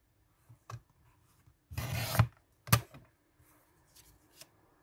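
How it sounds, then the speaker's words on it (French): A small paper trimmer slicing through leftover paper scraps, heard up close as a short rasping slide followed by a sharp cutting stroke, with quieter shuffling of paper around it. "Donc, rebelote mon mini massicot"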